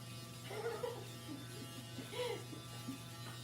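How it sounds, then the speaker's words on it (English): A steady electric shaver hum at a barber school haircut, continuous and fairly close, with people talking over it in short bursts. "so you wanna kinda take your electric shaver?"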